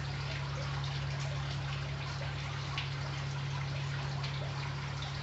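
Water pours steadily into a reptile's water bowl, a continuous close trickle and splash with no talk over it.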